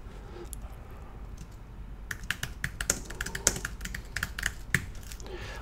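Typing on a computer keyboard while entering a blog post title, a quick run of close, crisp key clicks in uneven bursts over a faint background hiss.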